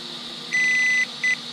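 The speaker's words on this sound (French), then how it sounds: "il fait un bip" An RC brushless ESC in programming mode gives a clean electronic beep, one longer tone followed by a short second beep over a faint steady hum.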